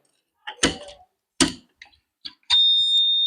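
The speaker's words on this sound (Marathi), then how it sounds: "याचा लॉक असल्यामुळे याचा बझर पण वाजायला लागलाय" A locked password box sets off its electronic buzzer, a steady high-pitched continuous tone that starts near the end after a few brief bursts of nearby voice and handling sounds.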